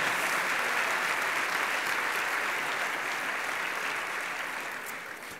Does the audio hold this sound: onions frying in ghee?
no